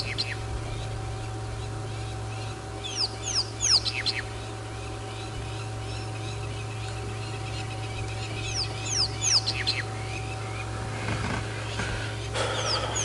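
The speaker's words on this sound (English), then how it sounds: "Just had crowned plovers coming over making a noise." Crowned plovers fly overhead calling, giving clusters of shrill, rising piping notes in two main bursts over a steady low engine hum and a faint tonal whine from a vehicle on a game drive.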